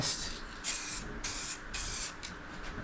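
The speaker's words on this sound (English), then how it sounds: "let's give this some lacquer" Spray gun laying lacquer onto a boat part, three long close hissing bursts separated by brief pauses, with no talking.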